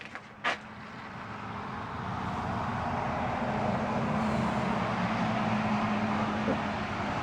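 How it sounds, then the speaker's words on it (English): Slow traffic crawling along ice-covered roads after an ice storm, heard as a steady, broad roadway hiss and rumble with a single sharp click near the start. No voices. "because slow traffic's moving"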